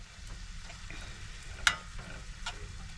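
Chopped peppers added to marinated steak frying in a pan inside a van, a faint steady sizzle with a single sharp utensil clink in the middle.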